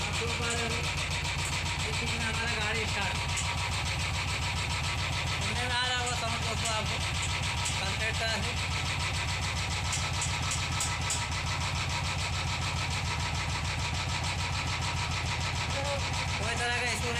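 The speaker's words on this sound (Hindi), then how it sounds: "आप देख पा रहे होंगे इस किक में हमारा गाड़ी स्टार्ट सुनने में आ रहा होगा" A Royal Enfield 350 motorcycle with a ticking noise problem idles loud and close, its engine chugging steadily throughout while someone talks over it.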